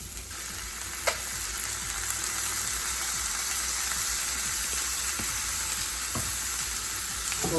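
Saltfish with a spoonful of ketchup frying in a pan, giving a loud, continuous sizzle with occasional scrapes and clinks as it is stirred, and no voices.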